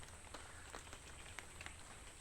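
Rain falls steadily in an outdoor spot with a person sheltering from it, a soft continuous patter with scattered faint drips and taps and no voices.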